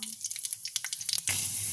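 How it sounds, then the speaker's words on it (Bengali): Light crackles and pops from a hot pan, then a sudden loud sizzle bursts out as whole spices hit the oil. "তেলটা গরম হয়ে যেতে আমি ফোড়নগুলো ছেড়ে দিলাম"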